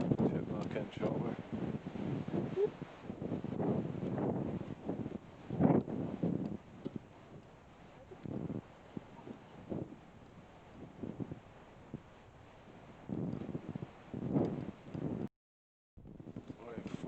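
Gusty wind buffets the microphone on the coast of an abandoned island, rising and falling in loud rumbling surges before a brief drop to silence and a return.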